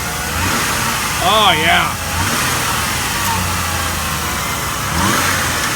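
A car engine turns over and revs twice, with a rising whine, then settles to a steady idle before another brief rev, all close by with someone speaking briefly over it.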